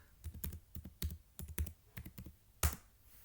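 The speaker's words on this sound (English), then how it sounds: "So just type the command as I have typed and press enter." Someone types a command on a computer keyboard in an irregular run of close, crisp key taps, ending with a heavier keystroke, with no voices.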